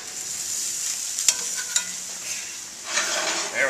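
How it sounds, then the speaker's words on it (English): Rib eye steaks sear in a hot pan with a steady broadband sizzle throughout, broken by a couple of short sharp pops and a rising crackle near the end, heard alone with no talk. "I'm going to stick them right in the pan. Turn up the heat so we can get a good sear."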